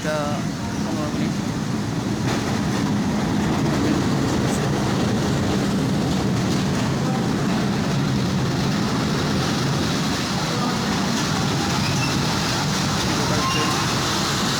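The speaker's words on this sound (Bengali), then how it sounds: "local train" A local train passes on a sunny early afternoon, a steady loud rumble and rattle of wagons rolling on the track, continuous and close throughout.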